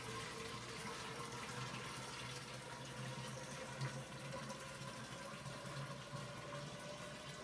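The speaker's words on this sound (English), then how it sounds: "So now it's time to fill my keg." Beer keg filling with PBW cleaning solution from a hose, a steady, faint, even rush of running water that continues unchanged throughout with no voices.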